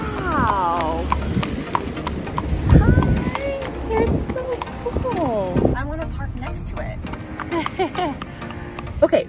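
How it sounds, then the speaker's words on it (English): Horse-drawn buggies pass near a Walmart. Hooves clip-clop in steady rhythm, close by, and a horse briefly whinnies, all under excited family chatter. "so we're coming to Walmart and we see all these horse and buggies"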